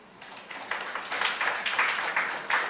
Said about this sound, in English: Everybody please give a big clap.